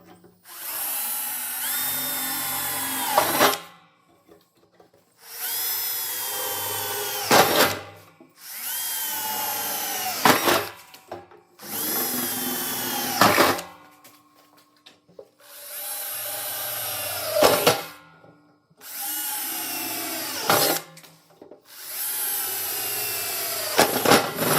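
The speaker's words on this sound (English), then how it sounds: "So I'm gonna make my way around real quick and drill the rest of these out" Drill boring out bolt holes in the metal of a two-pan wood-fired maple sap evaporator, in seven loud bursts of a few seconds each separated by short pauses, close by with no talking.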